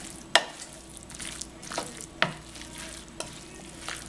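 Broccoli rice au gratin being stirred in a pan, made a little creamy with added liquid and coating the broccoli: soft close scraping and stirring with a few sharp utensil clicks against the pan, faint sizzle beneath, no voices.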